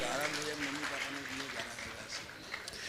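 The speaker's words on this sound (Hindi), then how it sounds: "जोरदार ताली बजाकर इनका सम्मान करें।" An assembled audience at a religious gathering claps loudly in honour of donors, a continuous broad patter of many hands filling the space while someone speaks over it.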